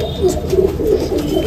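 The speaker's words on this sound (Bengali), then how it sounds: "এই আবলুক পায়রা" A baby Ablook pigeon coos in low, throaty murmurs, a couple of brief warbling pulses heard up close.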